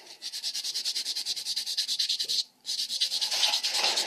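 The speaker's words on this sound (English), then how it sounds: "I'm going to buff it up" Rapid back-and-forth rubbing of a nail buffer across a fingernail, a steady scratchy stroking rhythm with a brief pause midway, close and fairly quiet, no talking.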